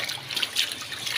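Water splashing and trickling as a young girl is bathed by her father, a soft, uneven, close pouring and splashing with small bursts and no clear talk.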